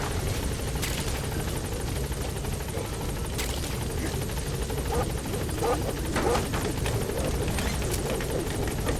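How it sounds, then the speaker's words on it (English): A support helicopter arriving at a landing zone in the video game Metal Gear Solid V: The Phantom Pain, its thudding rotor drone loud and close, with scattered clicks and faint voices underneath. "Support helicopter has arrived."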